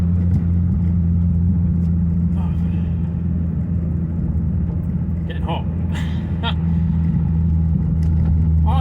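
Renault Clio RS 172 petrol car engine while driving, heard from inside the cabin as a steady low drone and rumble that holds throughout, with people talking over it.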